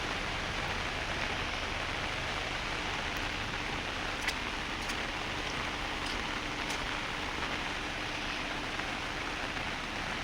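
Steady rain falls at a hilltop viewpoint in Anakulam, near a national park, a dense, even hiss that continues unbroken throughout.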